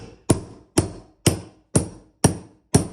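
A hammer tacker staples a stair runner onto quarter round and under molding, six sharp, evenly spaced close bangs about half a second apart with no talking.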